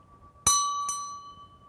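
A small ritual hand bell, used for space clearing, rings clearly twice in quick succession, a bright metallic tone that sustains and slowly fades in a quiet room.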